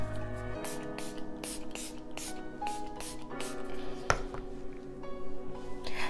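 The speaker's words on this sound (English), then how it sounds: "it's time for setting spray" A series of short, sharp spray bursts from a pump bottle, about ten quick spritzes in an uneven rhythm, close and fairly loud.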